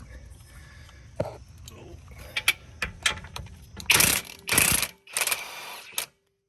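Ratchet wrench loosening the lower control arm to knuckle bolt on a 2019 Subaru WRX during a coilover install, heard as several bursts of close, loud clicking and grinding separated by pauses, with faint background noise.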